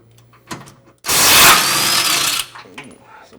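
A power tool with a 21mm socket spins the tow hook bolt off a Jeep Wrangler JL. It gives one loud, whirring burst lasting over a second, with faint clicks and knocks before and after in a quiet setting.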